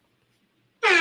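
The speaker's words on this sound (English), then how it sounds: "And that's the air horn." A loud, blaring cruise ship air horn bursts in after near silence and holds steady to the end, a rich brassy tone with strong harmonics.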